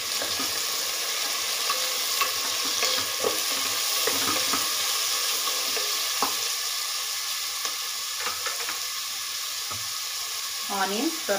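Finely chopped onions with fennel seeds sizzling in hot oil in a pan for tomato rice, a steady crackling fry broken by repeated scrapes and clinks of a spoon stirring, close and moderately loud with no voices.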